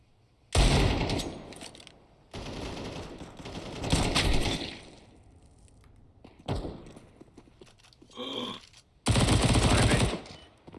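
Gunfire in a Counter-Strike match, with loud bursts of rapid shots in several separate volleys and short gaps between them.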